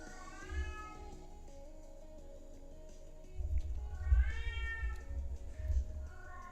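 A female house cat meows insistently before dinner time, two drawn-out calls a few seconds apart, the second louder and closer, over a low rumbling background.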